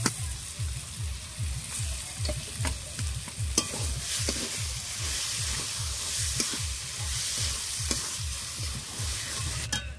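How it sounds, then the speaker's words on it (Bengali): Potato and cauliflower fry in a pan for cauliflower chops, stirred in a quick, regular rhythm of scraping strokes over a constant close sizzle. "এবার আলু আর ফুলকপিটা দিয়ে দেব।"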